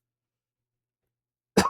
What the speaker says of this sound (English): Sorry, with coughing.